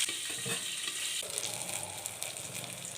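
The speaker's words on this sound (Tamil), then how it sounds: "மூடி போட்டு நல்லா வதக்கி எடுத்துக்கலாம்." Stuffed brinjal sautés in hot oil with curry leaves, giving a continuous close sizzle. Occasional stirring clatter is heard near the start.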